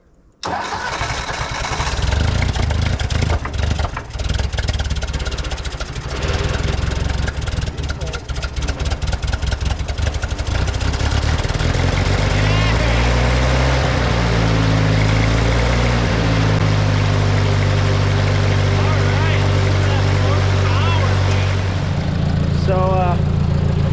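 An old 1962 Ford 2000 Industrial tractor engine cranks with the choke out, catches and settles into a loud, rumbling idle, its tone shifting as it runs, with a person talking briefly.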